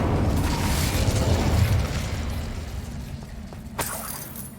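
Bombarda spells in Hogwarts Legacy go off as a loud blast and shattering crash that rumbles away, followed by a sharp smaller burst near the end.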